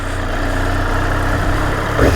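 A Triumph Daytona 765 Moto2 edition sport motorcycle idles steadily with a deep, throaty low rumble, close by, with a brief swell near the end.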